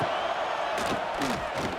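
Stadium crowd roaring and cheering in the game EA College Football 26 during a third-down red zone play, a dense, loud continuous roar with rising shouts and whoops.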